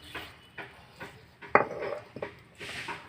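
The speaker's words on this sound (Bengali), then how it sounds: "এবার আমি এটাকে একটা বাটিতে তুলে নেব।" Coriander paste scraped out of a grinding vessel into a bowl at home: soft repeated scraping and tapping of utensil against dish, with one sharper clink midway, close and fairly quiet.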